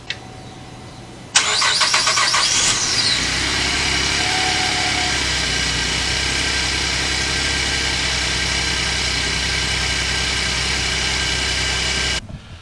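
A Chevy C50 truck engine cranks and catches with a sudden loud start, then settles into a steady, even idle that runs close and alone for about eleven seconds before cutting off.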